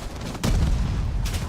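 A frag grenade detonating in a first-person shooter game, one loud, deep boom with a rumbling tail, followed by another softer burst soon after.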